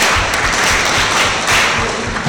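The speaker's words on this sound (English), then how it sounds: "Shall we clap for them, please?" An audience at a public forum on Ghana's implementation of the SDGs applauds, with loud, dense clapping that stays close and unbroken throughout.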